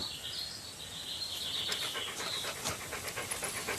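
Several dogs panting steadily and close, a dense rapid rhythm that runs throughout with faint bird chirps in the background.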